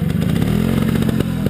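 Trial motorcycle engine revving hard and close at a trial event in St Pantaléon, a loud steady buzzing drone with rising pitch and some clatter over its 1.5 seconds.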